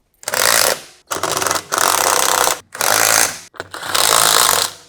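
Power tool driving and tightening nuts and bolts during assembly of a Valor Fitness BF-10 competition weight bench, in four loud, close, sustained whirring bursts with short gaps between them.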